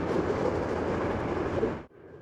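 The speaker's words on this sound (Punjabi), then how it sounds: "ਪਤਾ ਨਹੀਂ ਕਿੱਥੋਂ ਕਿੱਥੋਂ ਲੰਘਦੀਆਂ ਨੇ ਟ੍ਰੇਨਾਂ," A train rumbling past through open, remote countryside, a loud continuous rolling roar that cuts off abruptly and leaves a faint hum behind.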